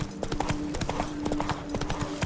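Roach the horse running in The Witcher 3: Wild Hunt – Blood and Wine, hoofbeats pounding in a fast, even gallop rhythm up close, with a steady musical drone underneath.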